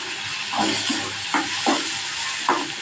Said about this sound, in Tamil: இப்போ போட்டு கொஞ்சம் நல்லா அந்த எண்ணெயிலே நல்லா வதக்கணும்